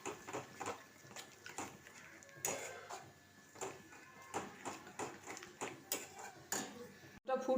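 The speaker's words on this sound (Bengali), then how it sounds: "এবার এটাকে আমি খুব ভালোভাবে নাড়ব।" A metal spoon scrapes and clanks repeatedly against a pan while cabbage curry with yogurt is stirred in a home kitchen, producing an irregular series of close, clattering knocks and scrapes.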